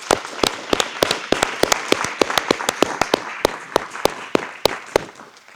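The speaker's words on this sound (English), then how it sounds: "So a big round of applause to everybody who volunteers to make this organization work." Audience at an aviation club's holiday party applauds its volunteers, with sharp, fairly close claps ringing out in a steady, energetic rhythm that holds for several seconds with no talk over it.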